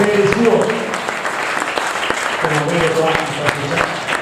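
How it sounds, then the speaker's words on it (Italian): Audience applause at a regional masters athletics celebration in Veneto, a steady crowd clapping that runs through the whole span with voices talking over it. "chiedo un grande applauso per l'Atletica Carriera Veneta"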